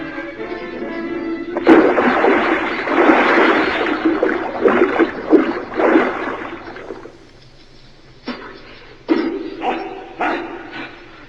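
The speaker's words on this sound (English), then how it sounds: "I'm diving off this pier, and when I do, you'll never catch me." Radio drama sound effect of a man diving off a pier into water: a sudden loud burst followed by several seconds of churning, splashing noise, then quieter scattered bursts.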